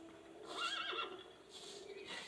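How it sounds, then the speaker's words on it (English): A horse in the Lost Lands game area neighs and whinnies twice in quick succession, a clear mid-distance call with no talk over it. "Speaking of a horse, I just heard one."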